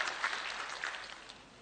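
A crowd at a Kenyan public rally applauding, a dense wash of clapping that gradually fades over under two seconds.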